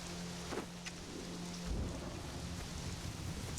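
Rain hisses steadily in the survival game Conan Exiles while a low thunder rumble rolls in about halfway through, a faint constant downpour with no voices.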